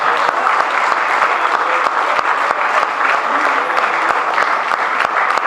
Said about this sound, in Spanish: Eso se merece un gran aplauso.